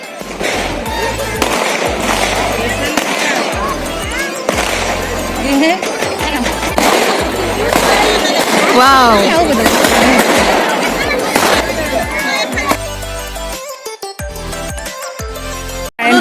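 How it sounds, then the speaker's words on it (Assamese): Firecrackers burst in rapid, crackling bursts and sharp pops over several seconds, loud and close, with voices talking in the background, at an evening Bhogali festival fair in Nagaon, Assam. "সন্ধিয়া সময়ত এনেকৈ ফটকা ফুটাই"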